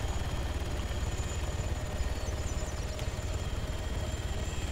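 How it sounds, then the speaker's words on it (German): Helicopters from the video game Arma Altis Life are parked, a steady droning rotor and engine hum that stays constant and moderately loud throughout with no speech. "Oh, hier werden jetzt die Helikopter wieder eingeparkt."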